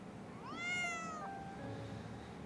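A single drawn-out cat meow rises and falls over about a second, fairly faint against a quiet background hiss.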